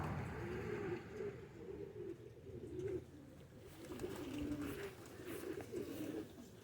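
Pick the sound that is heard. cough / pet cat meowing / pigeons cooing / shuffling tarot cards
pigeons cooing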